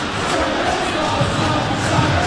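A stadium crowd in eFootball 2022 during a Juventus vs Tottenham Hotspur match, producing a steady, dense roar of cheering that holds at an even level throughout.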